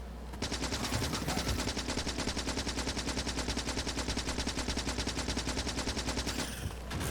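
Rapid, steady machine-gun fire from Factorio 1.0 with the Space Exploration mod, shooting at enemy nests; a dense, continuous rattle of shots runs for about six seconds, loud and close, then stops abruptly.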